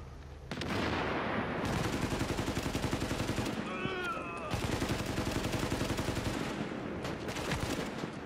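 Gunfire in the video game The Division, heard as sustained rapid automatic fire, loud and continuous with a brief pause midway, while voices talk faintly underneath.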